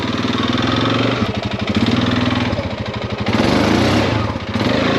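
A used, worn Honda four-wheel-drive ATV engine runs with four-wheel drive and diff lock engaged, a steady close mid-pitched chugging drone that rises and falls slightly in revs, sounding sluggish rather than snappy.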